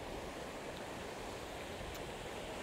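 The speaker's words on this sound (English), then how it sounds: "It's a waterfall." Waterfall at Wain Wath Force in the North Yorkshire Dales, a constant broadband roar of rushing, falling water, steady and unbroken, with no talking.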